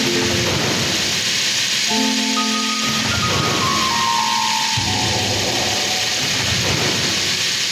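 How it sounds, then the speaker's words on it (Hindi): Rain with thunder during a Jamunabahal natak stage drama: a loud, steady hiss of rainfall with low rumbles underneath, while sustained musical tones sound over it. "मेघ बिजुली वर्षा"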